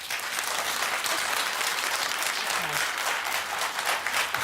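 A television talk show studio audience applauding, sustained dense clapping at an even, loud level from start to finish.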